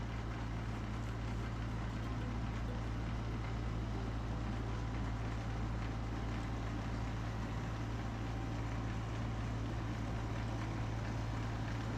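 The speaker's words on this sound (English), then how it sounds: "just watching the snowblower go in the snow there" A snowblower mounted on a tractor's 3-point hitch throws deep, heavy, wet snow at night, heard as a steady low engine drone and broad rushing roar that holds at an even level throughout.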